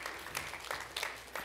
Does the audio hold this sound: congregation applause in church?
yes